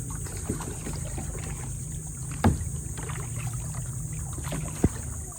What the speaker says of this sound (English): I swear I'm paddling here.